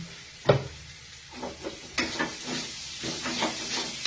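Chilli fish stir-fried with sweet corn and sugar sizzles close by in a pan, with scraping, clattering stirs over a constant hiss of frying.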